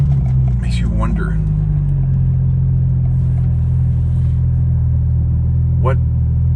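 A Porsche 911 GT2 RS cruising with a loud, steady low engine drone and road rumble throughout, while someone talks over it.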